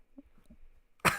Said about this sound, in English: Sorry, I got this allergy cough.